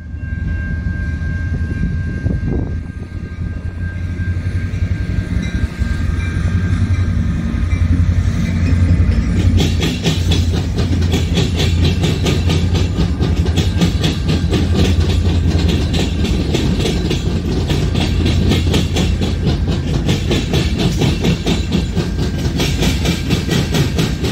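Long freight train of 366 axles rolling past at about 25 mph in Griffith, Indiana, a loud continuous rumble with rhythmic wheel clatter and steady rail noise throughout, close to the listener.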